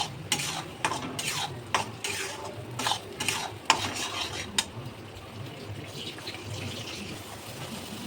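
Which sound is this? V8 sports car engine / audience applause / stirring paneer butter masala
stirring paneer butter masala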